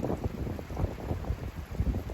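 Gusty wind buffets the microphone in a steady low rumble, with pulsing swells that rise and fall, outdoors and close.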